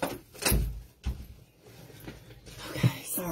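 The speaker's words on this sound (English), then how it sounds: "Let me shut my door." An indoor door being shut, with a couple of muffled thuds and a latch click up close in a quiet room, with no talking.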